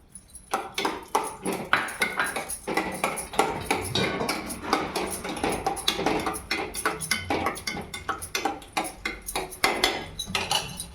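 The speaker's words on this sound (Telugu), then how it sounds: "డ్రై ఫ్రూట్స్ కూడా దూరగా గోల్డెన్ కలర్ వచ్చేట్టు ఫ్రై చేసుకుందాము" Dry fruits frying in ghee in a pan for a quick sweet, heard as a steady run of metallic clinks and scrapes of a spoon against the pan, close and fairly loud, with no talking.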